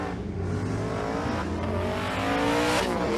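Engines of a Fox-body Mustang with a stick shift and a Buick Regal rumble and rev at a drag strip in Monroe, Louisiana, with steady harmonic engine drone and rising tones throughout, no talk.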